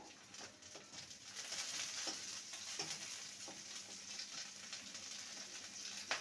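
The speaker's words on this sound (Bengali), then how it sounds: "পেঁয়াজটাকে হালকা ভেজে নিয়েছি এখানে চার পাঁচটা কাঁচা লঙ্কাকে চিড়ে দিয়েছি সেটা দিয়ে দিলাম" Onion and slit green chillies fry in a pan for a water lily dish, giving a steady soft sizzle with occasional stirring scrapes, fairly faint and continuous with no talking.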